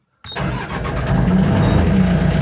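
A freshly repaired old engine, nicknamed TupTup, cranks and fires up after a short glow-plug warm-up, then settles into a loud, steady rumbling idle close by with no talk over it.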